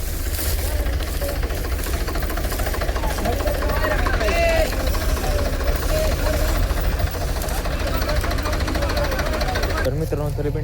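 A JCB excavator engine revs steadily and loudly, straining to haul out a tractor trailer stuck fast after a couple of tractors failed, with a deep continuous drone and clanking throughout, under faint background voices.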